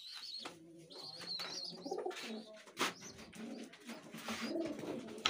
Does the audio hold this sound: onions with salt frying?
no